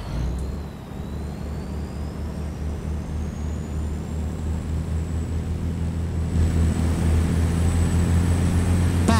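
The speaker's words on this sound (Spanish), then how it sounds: "Suena este motor, está haciendo una fuerza." Heavy truck engine laboring under load in American Truck Simulator, hauling a special transport; a continuous low rumbling drone that grows louder and deeper toward the end, with a faint high whine above it.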